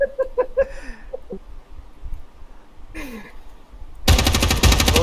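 Burst of automatic gunfire fired into a building in the tactical shooter Ground Branch, a loud sustained rattle erupting near the end after a quieter stretch with scattered voices and a few sharp sounds.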